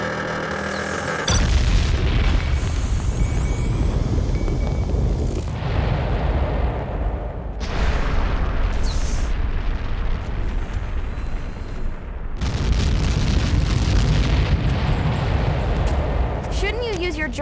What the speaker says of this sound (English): Goldie talked over the big dramatic explosion.